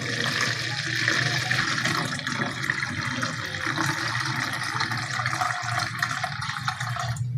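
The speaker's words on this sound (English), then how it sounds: "Now I am inserting the water." Water poured into a small demo water tank for a home automation setup, a steady close rushing and splashing flow that runs without a break, with no talk over it.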